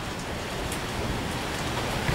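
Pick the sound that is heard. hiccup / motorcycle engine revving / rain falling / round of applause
rain falling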